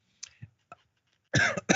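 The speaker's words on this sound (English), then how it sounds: "stop coughing" A couple of small throaty coughs, quiet and close, followed by a brief burst of talking.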